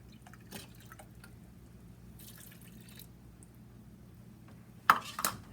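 Vegetable broth pours into a cooking pot in short, soft liquid trickles and drips, ending in a brief, louder splash near the end amid otherwise quiet kitchen background.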